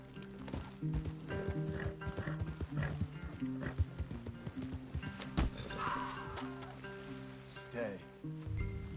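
Horses in the Red Dead Redemption 2 video game: steady clip-clop of hooves with an occasional whinny, set against game music and a faint voice.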